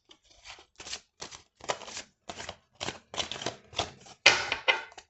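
Game cards being sorted and shuffled by hand, a series of separate crisp riffling and slapping bursts close up, about nine in quick irregular succession.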